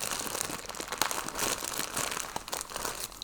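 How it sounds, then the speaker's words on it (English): Plastic bags holding balls of 100% merino yarn crinkle and rustle loudly and continuously up close as they are handled and opened, with no speech over the sound. "Sorry about the crinkling."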